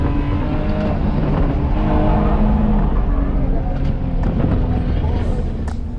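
A BMW E46 drifting on the Streets of Willow road course, its engine a loud, steady roar held throughout with rising and falling revs and occasional tire squeal near the end.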